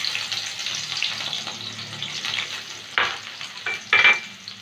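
Garlic, dry red chillies and black cumin fry in hot oil for beetroot chorchori, giving a steady close sizzle with two sharper bursts of spitting and stirring near the end.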